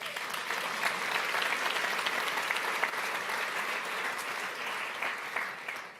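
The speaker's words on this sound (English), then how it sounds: "Maybe we could give these folks a round of applause." A conference audience at a collaborative learning summit gives a round of applause, a broad, steady clapping wash from a large room that fades slightly toward the end.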